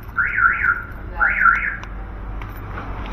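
A parked car in a used-car showroom in Magelang sets off its alarm, a loud warbling siren sweeping up and down in two bursts nearby before cutting out, leaving low room noise.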